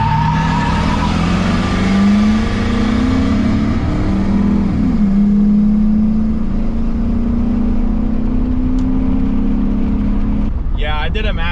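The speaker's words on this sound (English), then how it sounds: "Yeah, I did a massive burnout there, and I still got him." A car at a drag race accelerating hard after a burnout, its engine note climbing steadily through a long pull before cutting off, loud and close, with a voice briefly heard near the end.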